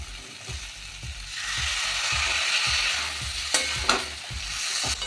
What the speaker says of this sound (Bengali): এবার ভালো করে কষাবো।